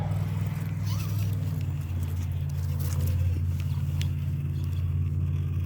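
A Redcat Gen8 RC crawler truck drives onto a trailer on a homemade backyard obstacle course. Its electric motor gives a steady, close low whine and hum that rises and falls slightly as it climbs.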